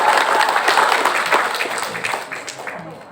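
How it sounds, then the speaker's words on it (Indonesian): Seated audience at a research event applauding the participants, a dense wash of clapping that starts loud and gradually thins and fades, with a little voice mixed in. "Boleh tepuk tangan untuk peserta riset Bapak Ibu."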